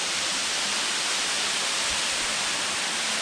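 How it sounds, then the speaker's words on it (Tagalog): Steady, dense roar of a waterfall at Koh Kood, Thailand, a broad continuous rush of falling water close by with no voices over it. "Look at this nice waterfall at my back."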